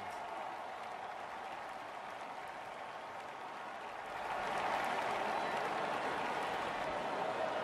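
Crowd applause in a Don Bradman Cricket 17 India vs New Zealand warm-up match, steady broadband clapping that swells louder midway and continues to the end, with commentary voices faintly underneath.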